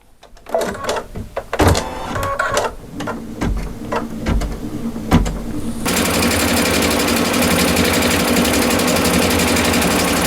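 An embroidery sewing machine stitches a design, starting with irregular clicks and thumps, then settling into a loud, steady, rapid mechanical whir up close.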